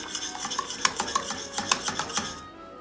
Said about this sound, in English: we're going to keep whisking